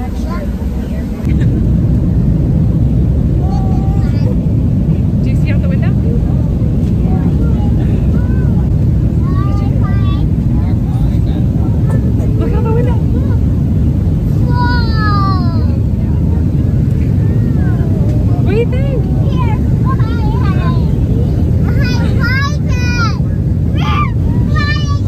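A loud, constant low roar of airplane cabin noise fills the whole stretch, with voices and a child chattering on top of it.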